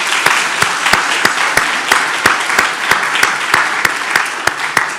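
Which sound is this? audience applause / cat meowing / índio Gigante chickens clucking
audience applause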